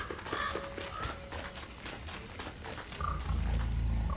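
Pigs running in the Don't Starve video game, a busy patter of small footsteps and faint grunts across a few seconds, with game music and effects underneath and a louder low rumble toward the end.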